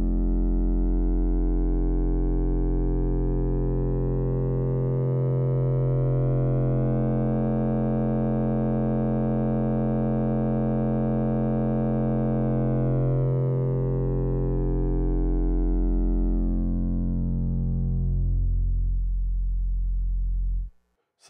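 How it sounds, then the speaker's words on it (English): A sine wave runs through an mki x es.EDU DIY wavefolder synth module as a loud, sustained electronic tone whose buzzy overtones swell brighter, hold, then thin back toward a pure hum before it cuts off. "So that's a sine wave going through a folder."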